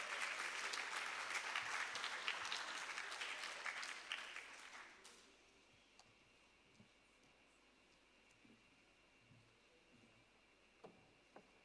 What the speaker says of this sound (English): Let's give them a round of applause this morning.